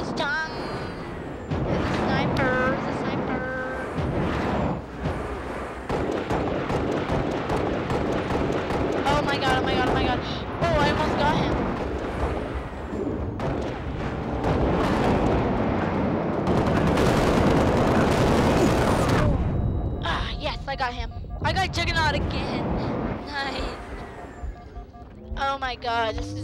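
Gunfire from the Halo Reach video game comes as dense, repeated bursts and blasts of shots over a constant roar of game action, with a voice talking through it.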